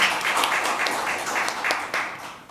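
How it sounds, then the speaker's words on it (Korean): An audience at an ESG academic conference gives a round of applause, scattered hand claps forming a steady moderate patter that continues throughout and tapers slightly near the end. "네, 박수 부탁드립니다."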